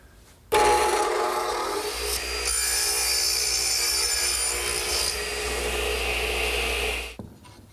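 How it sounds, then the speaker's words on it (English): A miter saw cuts a 30-degree angle in redwood for a garden arbor, whining loudly and steadily for almost seven seconds before it spins down and stops. "I use my miter box to cut the 30-degree angles and my radial arm for"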